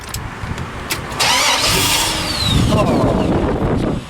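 A Ford Mustang GT350 engine cranks and catches near the start, then settles into a loud, steady rumble that swells again toward the end, with some faint background noise.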